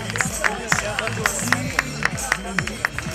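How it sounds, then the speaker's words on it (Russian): Fans at a Russian championship beach soccer match between Dynamo Moscow and Rotor Volgograd clap in a steady rhythmic beat, sharp regular claps over a crowd murmur, with an announcer's amplified voice talking through it. "я еще раз попрошу ваших аплодисментов для команды «Динамо»"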